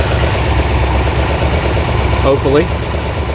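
Electric radiator cooling fan switching on over a steadily idling car engine after a fan install, the idle loud and close with a brief spoken word near the moment the fan kicks in.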